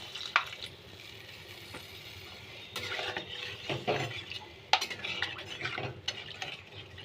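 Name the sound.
hot water poured into frying fish curry masala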